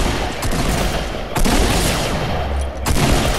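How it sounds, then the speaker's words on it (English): Grenade blasts and rapid gunfire fill a Fortnite battle, dense crackling volleys with two sharp louder bursts, steady and close, no talk over it. "there's another guy throwing grenades."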